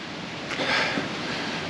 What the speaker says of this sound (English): more flowing water